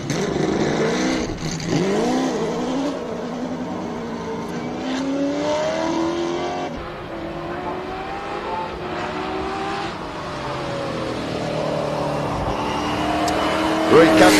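An AC Cobra race car climbs a wet hill course at a hillclimb event, its engine revving loudly and rising and falling through gear changes as it pulls away, with a commentator talking over it.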